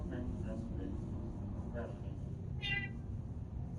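Cats meow in the video game Torment: Tides of Numenera, a couple of short mews rising over a steady low hum of background noise, with one clearer meow near the end.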